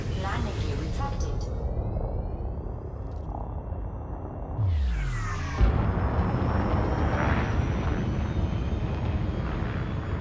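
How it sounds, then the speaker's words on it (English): Landing gear of a spaceship retracting in the video game Elite Dangerous, heard as a low mechanical whir and clunk that swells over a steady engine rumble and hum, fairly loud and with no talking. "Landing gear retracted."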